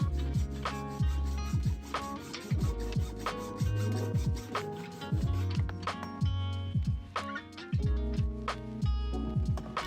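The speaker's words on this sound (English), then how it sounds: "Instead of taking the stem off when I file it down, I just slide it down a little bit and tighten it back up." A hand file rasps down the steerer tube of a 1989 Haro Extreme mountain bike in repeated back-and-forth strokes, close and fairly loud, with a steady rhythm of about one stroke per second.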